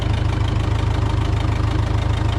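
A John Deere 3010 tractor engine with big cylinders idles steadily, a loud, close, low rhythmic chugging that keeps an even beat throughout with no voices.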